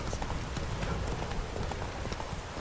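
Roach the horse gallops in The Witcher 3, a steady rapid drumming of hooves that fills the whole stretch, loud and close, with no voice over it.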